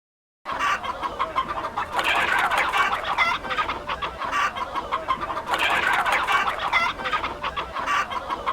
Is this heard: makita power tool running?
no